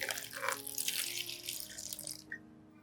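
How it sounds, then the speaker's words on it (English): Clean water is poured into a cup holding an orchid leaf, giving a steady splashing pour of about two seconds that stops abruptly. "you place the orchid leaf in a cup and add clean water"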